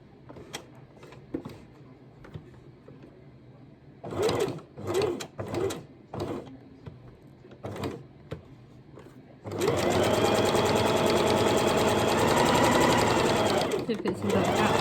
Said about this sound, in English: I literally just pivot with the needle down so